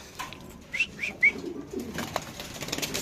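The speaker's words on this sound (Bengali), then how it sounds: "এখানে আছে দুই পেয়ার দুই পেয়ার কবুতর" Pigeons in a cage at a pigeon farm give a few short, close calls in quick succession, then quieter rustling and shuffling with faint background noise.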